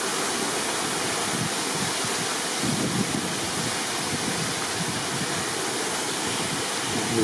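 Water pours steadily from a diverted channel as a small natural shower outdoors, a continuous close broadband splash and rush that holds at an even level without pause.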